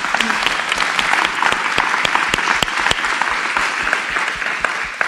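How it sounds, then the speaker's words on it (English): Audience applause for a panel of speakers at an evening community event on restoring driver's license access for immigrant drivers: dense, steady clapping from a crowd lasting the whole stretch, fairly loud and sustained without pause. "please give a round of applause to our panelists"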